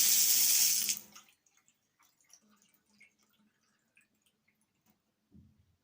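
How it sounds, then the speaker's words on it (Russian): Water rushes from a mixer faucet for about a second after the cartridge repair, then cuts off, leaving faint scattered drips and trickles of leftover water from the spout in a quiet room. "Это остатки стекают с рожка."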